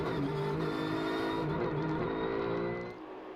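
Porsche race cars of the Belcar Series at Spa roar past with a steady, loud engine drone and rising harmonic whine, fading somewhat near the end.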